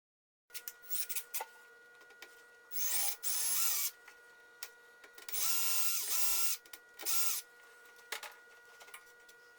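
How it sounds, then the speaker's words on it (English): Bursts of high-pitched mechanical whirring from a power drill drilling out rivets on a 1997 Ford Explorer third brake light, several separate runs of a few seconds each, with short taps and clicks in between. "Now drill out and remove all 7 rivets."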